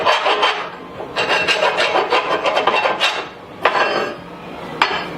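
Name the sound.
deburring inside of cut metal link bar tube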